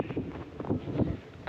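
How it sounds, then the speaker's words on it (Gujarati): Gusty wind blows past an open window at a farm where cows and buffaloes are kept, a close, rough, uneven rush of air that swells and dips over a second and a half. "કારણ કે ભાઈ પવન આવે છે બહુ મસ્તીનો"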